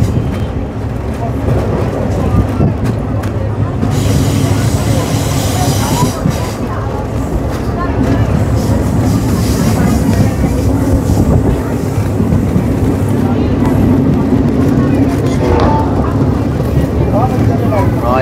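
A passenger train runs on the Jalandhar to Hoshiarpur line, heard from on board as a steady, loud rumble and rattle of the carriages with wind buffeting throughout, continuous for the whole stretch.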